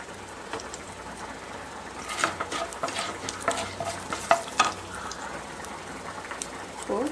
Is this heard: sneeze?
no